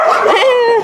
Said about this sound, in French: Adorable ce chien.